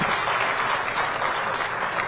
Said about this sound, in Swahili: Tuwapige makofi tafadhali.